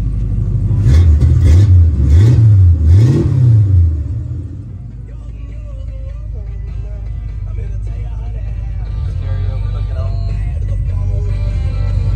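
A 1965 Ford Mustang Coupe engine catches with a loud low rumble and a few quick revs, then settles into a steady, even idle close by.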